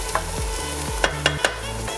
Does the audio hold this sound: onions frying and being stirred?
yes